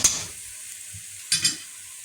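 Minced meat, added frozen to sautéed onion, hits a hot pan with a brief opening burst of sizzle, then a quieter hiss broken by light scraping and a second short flare of frying about a second later.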